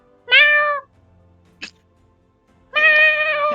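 A cat meows twice, two long drawn-out cries separated by a short faint squeak, the second meow rising louder and clearer, close and alone with no voices.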